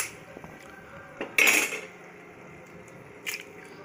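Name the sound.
eggs cracked and poured in for egg biryani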